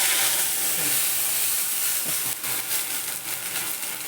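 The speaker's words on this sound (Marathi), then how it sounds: "थोडंसं तेल गरम झालं की त्यात पाणी घालायचं ह्या तेलामध्ये पाणी घालायचं पण जपून घालायचं जरा" Water poured carefully into a small amount of hot oil in a pan gives a steady, bright, loud hiss that carries through the whole clip and softens slightly toward the end.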